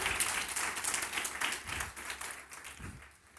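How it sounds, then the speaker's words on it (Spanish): Church congregation applauding the Lord during a sermon, a brisk, fairly close patter of many hands that gradually thins and fades toward the end. "Démosle un aplauso al Señor."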